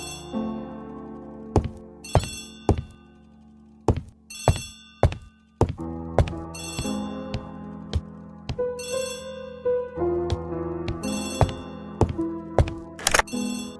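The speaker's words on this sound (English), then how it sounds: "Poirot, the telephone." An old-style telephone bell rings in repeated short bursts, each ring followed by a pause, with thuds and other sounds between the rings and no clear speech.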